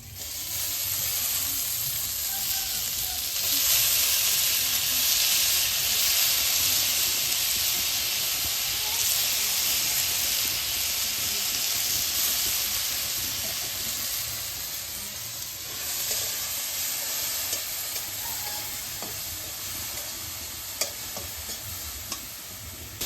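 Shrimp sizzle in hot oil with fried garlic and green chili, a loud, continuous hissing fry with stirring scrapes of a spatula, steady and close throughout with no voices.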